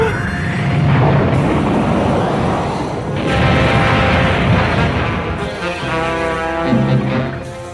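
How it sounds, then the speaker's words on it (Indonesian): A massive explosion from Super Buu in Dragon Ball Z anime, a long roaring rumbling blast that swells, fades and surges again, with whooshing debris and tonal effects toward the end. "ledakan yang dihasilkan oleh Super Buu sebelumnya sampai ke tempat Mr. Satan"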